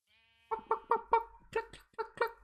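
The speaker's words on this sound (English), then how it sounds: "Where'd that sheep go?" A sheep in a Minecraft-style video game bleating in a rapid series of about eight short, nasal calls, clear and close against near silence.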